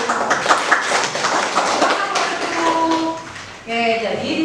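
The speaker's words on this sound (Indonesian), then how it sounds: "Tepuk tangan dulu." Scattered classroom clapping from students after a group's math answer, a patchy burst of hand claps mixed with chatter and voices talking over it, ending with a brief louder pause.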